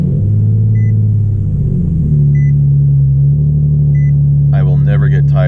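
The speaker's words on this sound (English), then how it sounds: "I will never get tired of that exhaust sound" Nissan 370Z exhaust rumbling steadily at close range with a deep low drone, briefly shifting pitch as the engine settles, with a faint periodic chirp above and a short burst of noise near the end.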